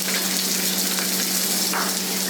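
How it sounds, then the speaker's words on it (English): Chopped onions frying in a pan for a Goan sardine curry, a steady close, dense sizzle with a low hum beneath, continuous and alone without talk. "So on the pan goes in first the chopped onions"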